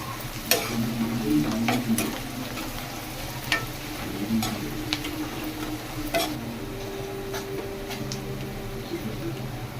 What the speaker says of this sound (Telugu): కొంచెం ఉల్లిగడ్డ కలర్ చేంజ్ అయింది, ఇంకా కొంచెం వేగనీయాలి